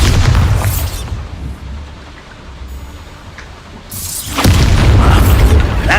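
The Bombarda blasting spell in the game Hogwarts Legacy, a loud booming explosion at the start that fades into a rumbling debris tail, then another heavy burst of noise near the end.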